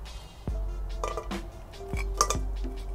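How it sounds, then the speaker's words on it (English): Toasted, charred bread crust handled in a large bowl, giving scattered dry clinks, crunches and knocks against the bowl at close range, with several sharp hits among softer rustling and no talk. "You can hear the sound of the crust."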